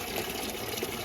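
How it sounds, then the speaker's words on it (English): Water draining from an electric water heater into a clear plastic tub, a steady splashing gush with a constant, even flow, close by and unbroken by talk. "We're putting it in this clear tub so that we can see what the water looks like coming out"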